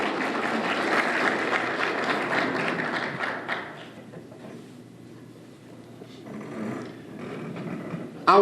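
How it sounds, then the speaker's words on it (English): An audience at a Southwestern Athletic Conference Hall of Fame induction ceremony applauds in a hall, a dense burst of clapping that fades out after about four seconds, followed by quieter scattered sounds. "Let's give another round of applause for Mr."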